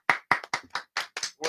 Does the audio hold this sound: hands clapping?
yes